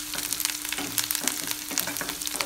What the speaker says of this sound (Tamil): ஆனியன் கோல்டன் கலரில் சேஞ்ச் ஆகிற வரைக்கும் மிக்ஸ் பண்ணி விட்டுட்டே இருங்க